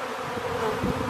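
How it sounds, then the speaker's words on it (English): A gathered mass of swarming honeybees hums in a dense, steady buzz outdoors, close and continuous with slight swells, no voices. "we have a mass of bees gathered up"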